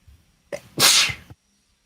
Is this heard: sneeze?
yes